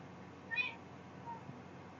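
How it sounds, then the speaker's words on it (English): A pet cat lets out a single short meow partway through, fairly close and not loud, over a steady low background hum. "I heard my cat. She was yelling at me."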